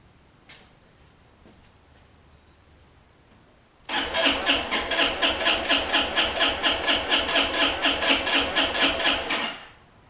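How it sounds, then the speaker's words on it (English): A Kymco Grandvista scooter engine cranks over when its starter solenoid is jumped, a loud rhythmic chug of starter turns lasting about six seconds after a few faint clicks, then stopping without catching. "I can get it to kick over whenever I jump the solenoid"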